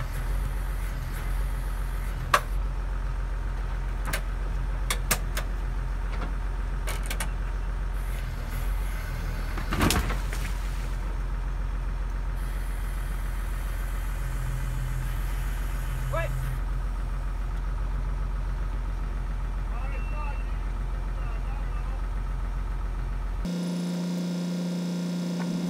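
A John Deere loader engine hums in a low, steady idle while it works at removing a concrete cattle gate. People talk over it with occasional clanks, and the sound stops abruptly near the end.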